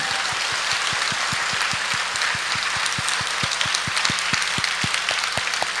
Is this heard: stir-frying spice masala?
no